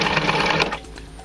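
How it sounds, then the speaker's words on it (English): A sewing machine stitches a fairly tight seam on DIY knee protector pads, running fast and steady close by for most of the moment before slowing and trailing off near the end. "I prefer to use a machine when I can. So I'm going to do a fairly tight stitch"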